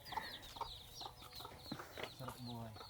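Chickens cluck repeatedly on a farm, close and moderately loud, with bird calls and low background noise throughout.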